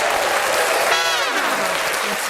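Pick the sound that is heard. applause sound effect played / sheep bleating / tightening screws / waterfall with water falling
applause sound effect played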